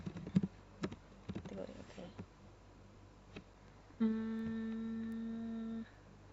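Keys tapped on a computer keyboard in scattered, quiet bursts while data is entered, followed by a steady electronic hum with tonal overtones near the end.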